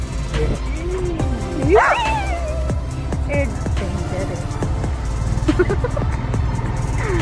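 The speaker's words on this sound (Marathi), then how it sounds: "आणि आत्ता आम्हाला कुत्र्याने ढास मारले" A dog barks and yips sharply, lunging at people outdoors near a creek by the Ganesh Nagar jetty, with close voices and passing traffic running underneath throughout.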